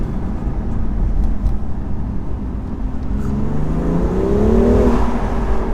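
A 2019 BMW M2 Competition engine drones steadily, heard from outside and sounding muted, with a rising engine tone toward the end, partly covered by rumbling wind and road noise.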